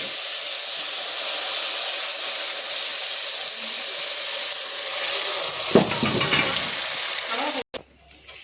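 Mustard-poppy paste and chili paste frying in oil after a nigella seed tempering, a steady loud sizzle and hiss that turns into a brief burst of stirring and spatter near the end before cutting out.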